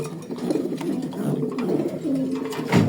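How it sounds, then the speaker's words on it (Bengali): Racing pigeons cooing in a loft, low throaty coos repeating close by, with light rustling and a sharper sound at the end. "এটা আমার লফটের সব থেকে বেস্ট কবুতর"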